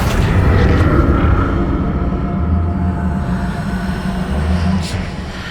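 Fiery blast of the Confringo spell in Hogwarts Legacy during a boss fight, a loud low boom rolling into a sustained rumble, with no voice over it.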